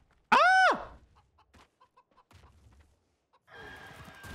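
A chicken in PUBG's zombie game mode lets out one loud, close squawking cluck, followed by faint scattered clucks and game noise.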